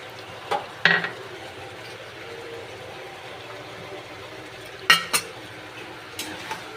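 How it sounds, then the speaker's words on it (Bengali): Sour yogurt going into butter chicken in a pan, a spoon clinking against the metal in a few sharp taps and scrapes, with a low, steady kitchen hum filling the gaps between them. "এবার আমি টক দইটা দিয়ে দেব।"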